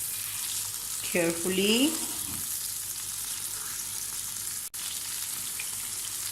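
Beef kebab sizzles quietly in a pan over a low flame for a smoky, creamy kebab, a soft continuous frying hiss with a brief spoken word near the start.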